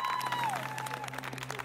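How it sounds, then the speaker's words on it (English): A crowd cheers and applauds wildly at a horse show, a steady wash of fairly faint, sustained noise with a thin whistling tone gliding downward near the start. "the crowd's wild"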